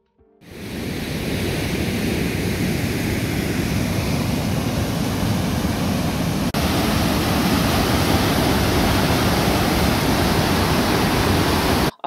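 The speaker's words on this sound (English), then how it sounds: "so you see a bit of the waterfall over there." A waterfall pours over a dam in Muskoka, a loud, continuous broadband roar of rushing water that sets in after a brief start and holds steady, close and unbroken, with no voices.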